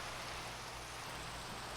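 Steady rain falling in the video game The Cure, a continuous even hiss of downpour with no breaks, fairly close and constant throughout.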